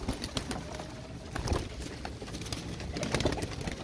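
Royal Teddy pigeons and chicks coo softly and quietly in a loft, low murmuring calls with faint shuffling and flapping around them.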